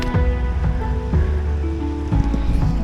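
Steady rushing water of a waterfall in a sandstone river gorge among Caledonian pines in the Scottish Highlands, a loud continuous broadband roar with no talk.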